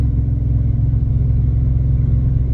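A Ford F150 with a 5.0 engine and MBRP exhaust cruises at 75 mph, giving a steady, deep exhaust rumble and drone heard from inside the cab, constant and moderately loud with no talk.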